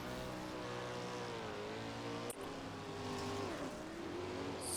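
Sprint cars race on the Williams Grove Speedway dirt oval in iRacing, their engines giving a steady, droning multi-car howl with subtle pitch shifts, moderately distant and with no talk.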